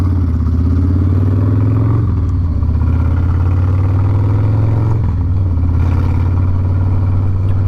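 A motorcycle engine droning steadily at cruising speed with a loud, continuous low hum, easing briefly twice as if shifting gears, with wind and road noise and no talk.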